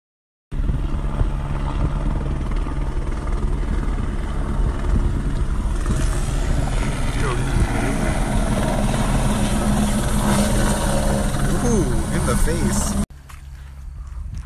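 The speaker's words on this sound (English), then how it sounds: "We're flying a tiny plane over Baltimore." A loud, steady propeller engine drone fills the cabin of a small propeller plane flying about 2,000 ft over Baltimore, broken by people talking over it, then cuts to a quieter rumble near the end.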